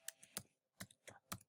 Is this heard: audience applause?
no